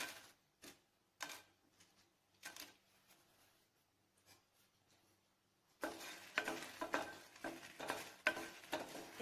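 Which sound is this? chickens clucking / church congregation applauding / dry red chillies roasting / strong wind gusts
dry red chillies roasting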